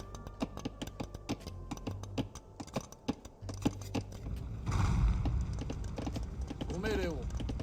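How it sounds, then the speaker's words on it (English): Horse hooves of heavy cavalry archers in an Age of Empires 2 match, a run of sharp, fairly even clip-clop beats that rise into a denser rumble of game effects in the second half. "And here comes the heavy cavalry archers."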